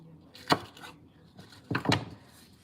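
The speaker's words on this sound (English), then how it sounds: "I got to cut up some more onion and peppers" Onion and peppers being chopped with a knife on a board, two short bursts of quick cuts, close and moderately loud.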